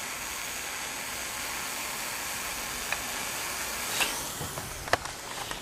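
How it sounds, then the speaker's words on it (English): A steam radiator's automatic air valve vents with a steady broadband hiss, close and continuous, broken near the end by a few faint clicks and taps. "this is basically how you should hear any steam radiator operate that has a cutoff valve, or sorry about that, that has an air valve that vents automatically"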